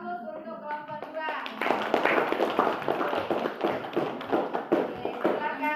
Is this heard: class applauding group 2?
yes